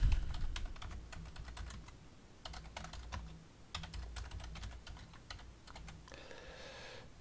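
Close, quiet clicking of a computer keyboard while a form is filled in, coming in quick bursts of keystrokes with short pauses between them and no talking.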